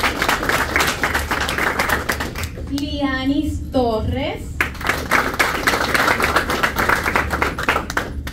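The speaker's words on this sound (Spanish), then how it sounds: "un fuerte aplauso para" A crowd claps steadily for volleyball players being introduced at a court, with a dense continuous patter of hands and cheering, while a voice over a public address system announces names and briefly cuts through the applause.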